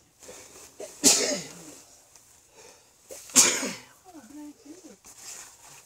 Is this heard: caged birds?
no